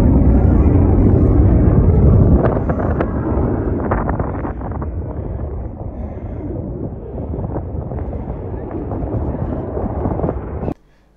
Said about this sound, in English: a warplane took off from RAF Akrotiri